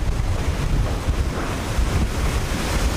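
Rough open-sea waves wash steadily around the Maxi Banque Populaire V racing trimaran offshore, with gusting wind buffeting the microphone in a continuous dense roar and no voices.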